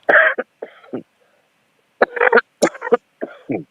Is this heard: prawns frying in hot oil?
no